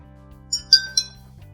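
Three bright clinks come from tapping glasses holding different amounts of water, ringing at distinct pitches in a short, quiet, musical sequence with no talking.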